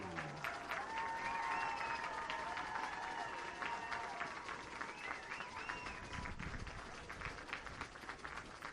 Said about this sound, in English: Let's give a big round of applause for the East High School Bears